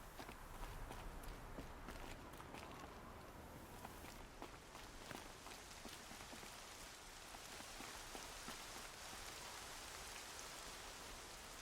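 Steady rain hisses through the Horizon Zero Dawn game world, with footsteps crunching along underneath, all quiet and continuous.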